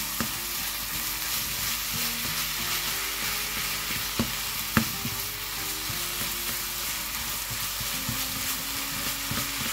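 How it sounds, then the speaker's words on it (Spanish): Cod and aubergine frying in oil while being stirred in a pan, a steady close sizzle with a few sharp utensil taps against the pan, no talking. "Lo mezclamos bien para que se nos vaya sofriendo también el bacalao."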